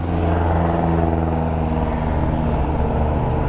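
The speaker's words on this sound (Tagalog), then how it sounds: "So grabe, grabe ang traffic." Heavy road traffic in Antipolo, heard from among the vehicles on a motorcycle, makes a dense, continuous low rumble of idling and revving engines, loud and close throughout.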